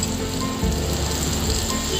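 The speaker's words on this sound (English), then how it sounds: "Now it is time to deep fry the fish balls." Fish balls made from bombil deep frying in hot oil, a steady close sizzle and crackle throughout with a brief low bump as more pieces drop in.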